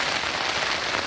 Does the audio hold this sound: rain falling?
yes